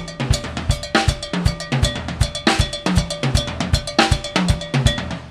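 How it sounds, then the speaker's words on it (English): A cowbell plays a Latin triplet groove with bright metallic clanks in a steady, repeating pattern. Low kick-like hits sit under it, and it plays alone at a strong, even level. "All right, you can have a little cowbell."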